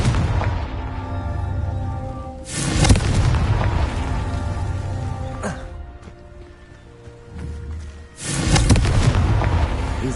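Confringo blasting spell explosions in the Hogwarts Legacy video game: three loud, booming blasts a few seconds apart, each with a sharp crack and rumbling tail over a steady low background hum.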